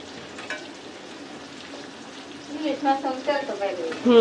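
Fish fries in the oil it releases, a soft, steady sizzle close by, joined about halfway through by a person talking over the frying.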